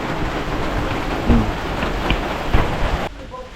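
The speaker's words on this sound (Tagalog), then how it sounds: "Yan, lakas na naman ang ulan, oh." Heavy rain pours steadily in a dense, continuous roar, with a couple of louder splashes or gusts before it drops away abruptly near the end.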